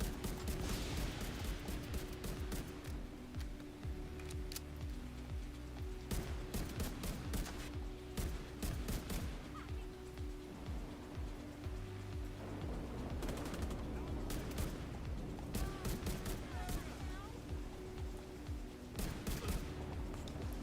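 Rapid gunfire in The Division 2, dense bursts of automatic shots crackling continuously at moderate distance through a foggy firefight, with steady combat noise underneath and a voice talking now and then.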